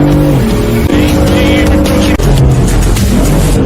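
Porsche 992 GT3 pulling out of the pit lane onto the Nürburgring circuit, its engine a loud, close, sustained roar that shifts pitch through gear changes for the whole stretch.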